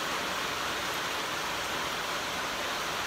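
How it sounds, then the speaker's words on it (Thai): Steady rain pouring down at a fishing raft on the river at Bang Sai, a dense, even hiss of drops on water and surfaces that holds at one level throughout, with no voices. "ฝนตกครับ"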